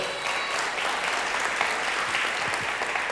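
A church congregation applauds in a dense, continuous wash of clapping that stays steady and fairly loud throughout, with no voices rising above it.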